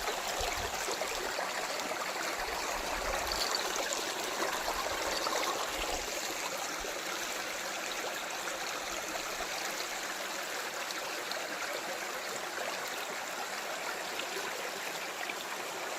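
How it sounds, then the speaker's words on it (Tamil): A natural spring in a dense forest flows steadily, a constant gentle rush and trickle of water that stays even and unbroken throughout, with no voices. "சுயம்பு ஊற்று பாருங்கள்."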